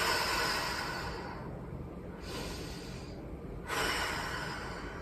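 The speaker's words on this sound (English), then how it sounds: "Breathe in and out, deep breaths." Slow, deep breathing in and out during a seniors' strength exercise, long airy inhales and exhales alternating close to the microphone, a steady breathy hiss with no talk.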